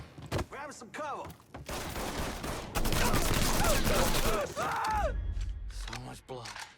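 Gunfire in a Mafia 3 shootout: repeated sharp shots and bursts ring out close and loud. They cluster in dense volleys with brief gaps, and voices are heard between them.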